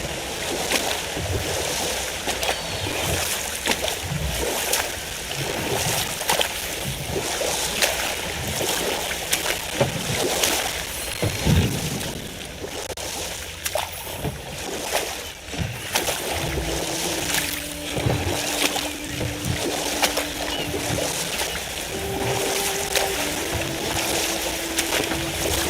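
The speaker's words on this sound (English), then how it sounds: "Waterfalls. We're close." A waterfall roars in a God of War Ragnarok game scene, a broad continuous rush of falling water with gusty surges, heard alone and fairly loud, with a faint tonal game sound drifting in near the end.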